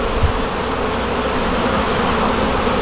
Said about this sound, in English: there's a good bit of bees in here